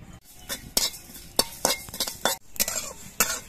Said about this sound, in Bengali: এবার এগুলো আমি নাড়াচাড়া করে ভেজে নেব।